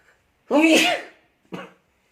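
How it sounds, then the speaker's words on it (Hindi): A single sharp sneeze bursts out close and loud, followed by a short softer breathy exhale, with near silence around it. "और मुझे छींक आ गई"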